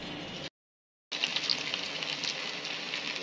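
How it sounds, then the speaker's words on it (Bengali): Sliced onions frying in a hot pan in a home kitchen, a steady broadband sizzle that cuts out briefly and then returns, close and even. "এখানে পেঁয়াজ ফ্রাই হচ্ছে।"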